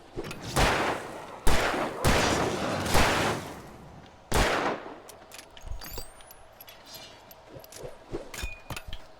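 Flare gun shots in the video game Alan Wake: several loud, sharp blasts in the first half, each with a hissing tail, then quieter scattered clatter and rustle.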